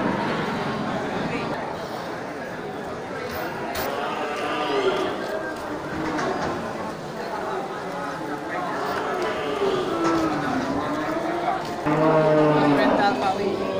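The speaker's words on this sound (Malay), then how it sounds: "ini sapi simental ya, pengisi kandang kosong" Simmental cattle at an Aceh livestock market, with low moos and animal calls mixed into a busy, steady crowd of voices and market bustle throughout.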